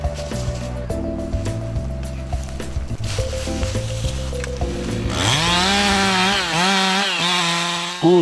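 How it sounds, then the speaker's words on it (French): Lumberjacks' chainsaws work while a tree is felled in a forest, the engines droning steadily near and loud, then revving higher and wavering in pitch as the saws bite into the trunk. "Entrent en scène les bûcherons et le ballet des tronçonneuses."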